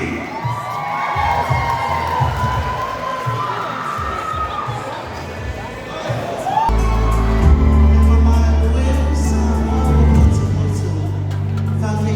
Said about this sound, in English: round of applause, ladies and gentlemen, for the Fatamao era